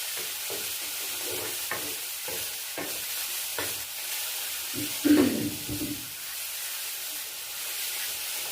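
Cabbage and cauliflower curry with spiced water is stirred in a pan, with a soft sizzle and repeated scraping strokes of a spoon, one sharper clatter midway.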